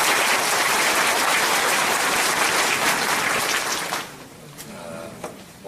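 Loud, dense applause from an audience at a redevelopment association's general meeting fills the room steadily for about four seconds, then quickly fades to a few scattered claps.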